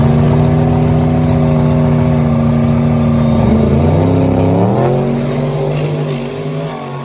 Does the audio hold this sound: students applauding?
no